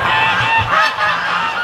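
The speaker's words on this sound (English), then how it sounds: "Those three geese have got a serious problem." Three geese honk loudly and close by, their harsh overlapping calls sounding continuously in a short burst with no talk.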